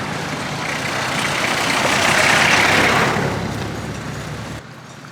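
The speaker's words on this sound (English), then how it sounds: "Let's enjoy it for a moment until the next car or CNG comes, the tuk-tuk." A vehicle engine passes along a border road in Bangladesh, a broad rumble that swells to a peak and then fades as it moves away, ending in a quieter background.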